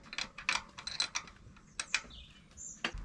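A lamp mount being tightened with a small supplied key, with close clicking and ratcheting taps in short irregular bursts and a brief squeak, fairly loud with no talk.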